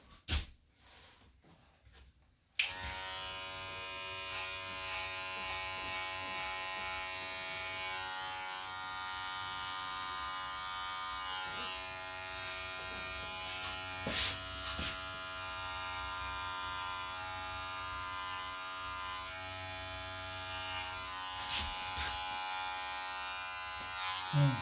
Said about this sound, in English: with a regular clipper,